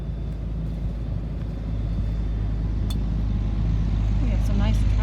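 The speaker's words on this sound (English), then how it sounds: "We have some nice traffic." Road traffic passing near a community garden in Basalt, with nearby construction: a steady low rumble of vehicles that swells slightly as one goes by, with faint birdsong above.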